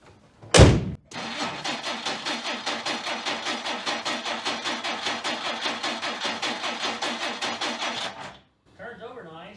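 1959 Plymouth Suburban engine cranking over with a fast, rhythmic chugging from the starter for about seven seconds after a loud thump, then stopping; a voice follows briefly at the end.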